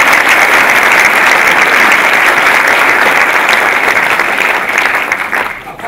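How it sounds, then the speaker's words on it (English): A large audience applauds loudly and steadily at a skydiving awards ceremony, dense clapping that holds for several seconds before thinning out at the end. "You could applaud if you like."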